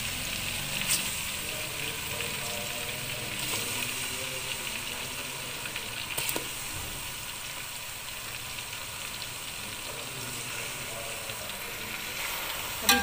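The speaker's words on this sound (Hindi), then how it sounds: "अभी चिकन डाल दिया, फिर अदरक लहसुन में हम इसको अच्छी तरह भूनेंगे।" Chicken pieces fry with ginger and garlic in a pan for Hyderabadi shahi chicken korma, giving a steady, fairly quiet sizzle with occasional stirring clinks and no talk.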